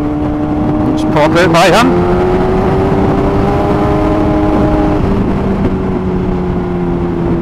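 A Yamaha FZ1-N motorcycle engine hums steadily while riding, with a brief rev rising and falling early on under wind noise, and a rider talking over it.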